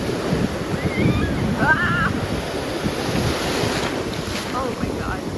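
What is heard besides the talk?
ocean waves breaking on a beach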